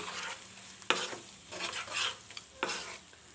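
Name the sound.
green chili and curry leaf paste frying in oil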